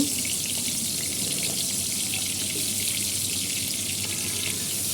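Prawns fry in oil in a pan as part of a shrimp bhuna, making a continuous, even, moderately loud sizzle that runs the whole time without speech.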